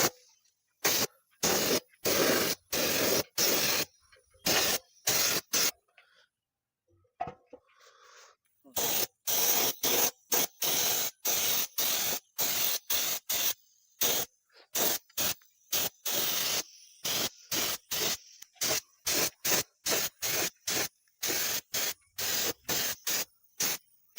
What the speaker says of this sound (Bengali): এখানে আমরা ট্যাঙ্কিটা এবার প্রাইমার করবো।